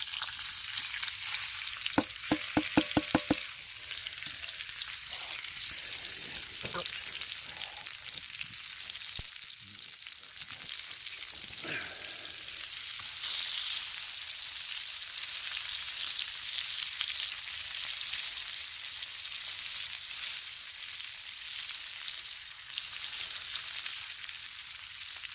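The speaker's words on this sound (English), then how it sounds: "Now I'm gonna put them in the frying pan." Constant gentle sizzling of potatoes and onions frying in a pan on a winter camping trip, with a few clinks and scrapes early on; no talking.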